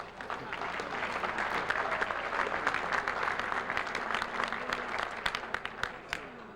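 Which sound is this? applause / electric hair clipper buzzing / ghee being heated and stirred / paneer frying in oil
applause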